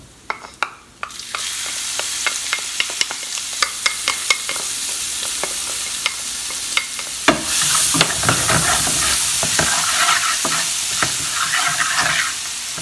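Green chilies, ginger and ground garlic hit a hot pan for a Kathiyawadi dish, breaking into a bright, sustained sizzle as a spoon scrapes and taps the pan repeatedly, close and loud with no talk.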